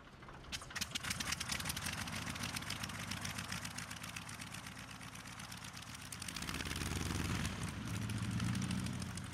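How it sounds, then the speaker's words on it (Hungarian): Heavy rotor of a gyroscope spinning as the cord is pulled, a steady mechanical whir that holds through and grows louder and lower near the end, with no talk over it. "Van itt egy giroszkóp, belül pedig egy olyan nehéz rotor,"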